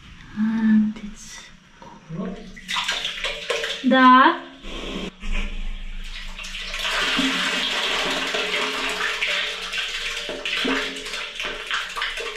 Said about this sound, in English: Right now we want to check how the water actually is flowing.